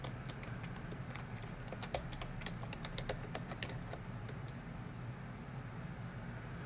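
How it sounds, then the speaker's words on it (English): Fast clicking keystrokes on a computer keyboard for the first few seconds, then the typing thins out and stops, leaving a steady low background rumble. "and I'll type it in here"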